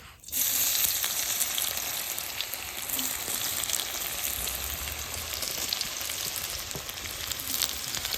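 Loud, continuous crackling sizzle as chopped onion hits hot mustard oil and keeps frying evenly, with no voices.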